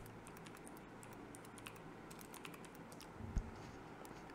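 Sparse, quiet keystrokes on a computer keyboard at a Windows 10/11 PC, with a few isolated clicks and one slightly louder tap near the end, all over a faint steady room hum.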